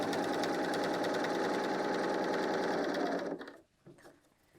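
A BERNINA L 890 serger runs steadily at close range, stitching and trimming a knit fabric seam with a dense, continuous whir before stopping abruptly near the end.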